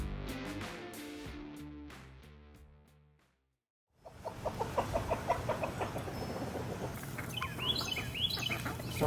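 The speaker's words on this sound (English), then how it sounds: "We've got chickens," Homestead chickens cluck and call in a busy, close run of squawks after a brief silence, with higher chirps joining toward the end, following a few seconds of unrelated tonal sound.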